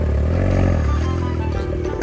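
Motorcycle engine revving hard at close range, a steady loud roar with rising and falling throttle that fills the whole stretch, recorded outdoors on a street.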